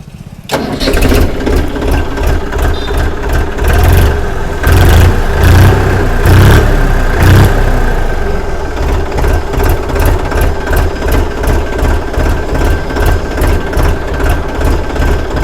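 A TAFE Massey Ferguson 9500E 50 hp tractor engine starts up and settles into a loud, steady diesel idle, a rhythmic low thrum that stays close and continuous throughout.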